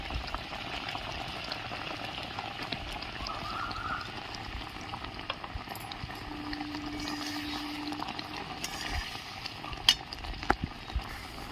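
Roasted spices and raw ginger go into a raw mango chutney that bubbles and sizzles steadily in the pot, a low continuous simmer broken by occasional sharp pops near the end.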